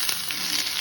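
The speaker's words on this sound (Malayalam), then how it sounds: "ഉലുവ പൊട്ടിക്കഴിഞ്ഞിട്ട് വെളുത്തുള്ളി" Garlic hitting hot oil just after mustard seeds and fenugreek have spluttered, a steady close hiss of frying that stays even and bright throughout, with no voices.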